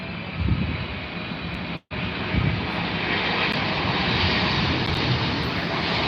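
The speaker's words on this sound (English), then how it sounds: "The Cathay Pacific 777." Cathay Pacific Boeing 777 jet airliner at London Heathrow Airport, a steady loud broadband engine roar that holds for several seconds, with a brief cut partway through, then continues at full strength with no talk.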